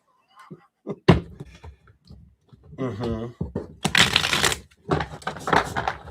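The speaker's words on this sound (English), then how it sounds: "One more shuffle for you." Tarot cards being shuffled give close, rustling riffle bursts with sharp taps, mixed with a brief stretch of voice partway through.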